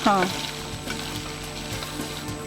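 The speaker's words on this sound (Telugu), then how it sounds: "దీన్ని కొంచెం కలుపుకోవాలి ఇట్లా ఓకే ఆయిల్లో ఫ్రై చేయాలి" Food being fried in oil with salt and turmeric gives a steady, close sizzle that runs throughout, with a brief voice at the very start.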